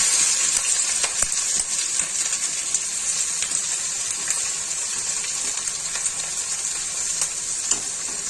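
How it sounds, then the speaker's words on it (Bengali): Onions and whole garam masala sizzle in hot oil for a chicken dish, a steady bright hiss with scattered pops and crackles, close and continuous with no voices. "এবার আমি গরম মশলাগুলো ফোড়নে দিয়ে দিলাম, পেঁয়াজগুলো ছেড়ে দিচ্ছি।"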